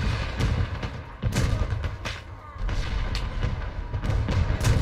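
Gunfire in the Arma 3 video game during an alien fight, with repeated sharp shots and heavy thumping impacts over a dense, continuous low rumble of battle noise.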